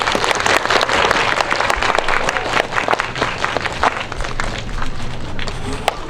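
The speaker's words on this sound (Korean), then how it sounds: "큰 박수로 맞이해주세요." Audience applauding and cheering as the cast of the film Harbin, including Hyun Bin and Jo Woo-jin, comes on stage at a cinema talk event; dense clapping with crowd noise continues throughout.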